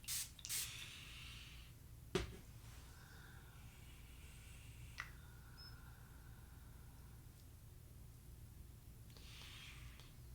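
Short soft hisses of a hydrosol facial mist spray, a couple of quick puffs at the start and a faint spritz near the end, separated by a sharp tap and quiet room hum.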